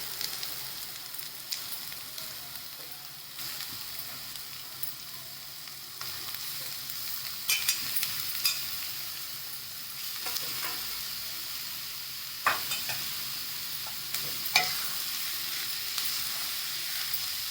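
Fresh baby shrimp (jawla) and onion sautéing in a pan, a constant, fairly quiet frying hiss with occasional stirring scrapes and clinks near the end, heard up close with no talking.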